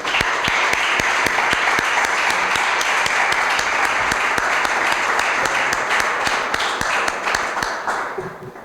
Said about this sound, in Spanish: Pido un aplauso para Justo Navarro, aunque seguimos luego con las preguntas